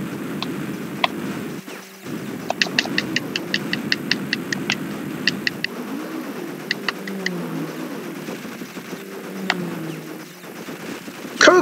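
Rapid shots at blips in Crash Bandicoot: Warped, with sharp clicky blasts in quick bursts and scattered single pops over a steady background hum and warbling game tones.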